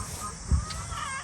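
Chickens in a backyard garden give a faint, brief cluck over low outdoor background noise, with no one talking.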